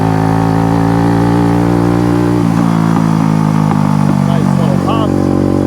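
A vintage Honda CB125 cafe racer engine running close and loud, a steady idle rumble that lifts into a rev with a small pop near the end, with someone talking over it.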